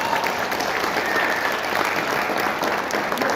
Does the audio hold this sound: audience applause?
yes